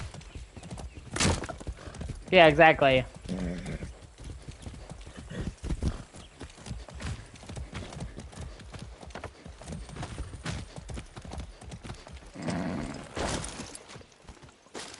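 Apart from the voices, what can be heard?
horse galloping in video game Far Cry 6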